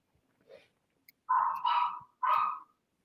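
A dog barks three times in a quick, close burst after a softer yip. The barks are sharp and clear against a quiet room.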